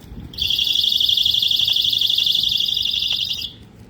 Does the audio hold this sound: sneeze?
no